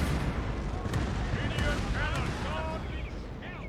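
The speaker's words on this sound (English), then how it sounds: "they're going to take like multiple canister rounds to the face" Cannon canister shot booming across a Napoleonic battlefield in Napoleon: Total War, a loud continuous roar of artillery with crackling impacts and faint distant cries layered over the rumble.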